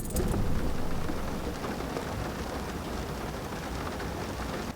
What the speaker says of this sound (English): It's raining outside, let's listen.